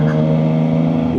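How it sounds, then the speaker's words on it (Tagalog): A Triumph Trident 660's inline three-cylinder engine revs loud and close, holding a strong steady drone with clear harmonic tones for about a second. "Grabe palang 3-cylinder engine guys."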